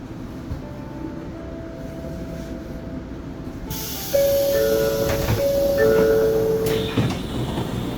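A train on a Japanese rail line, running between Tokyo and the Mount Fuji area, rumbles steadily. It grows louder about halfway through, and a few high electronic tones sound near the end.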